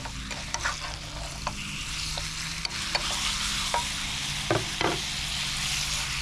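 A steak sizzles and fries in a pan in an outdoor parking lot, a steady close hiss with occasional sharp pops and crackles throughout.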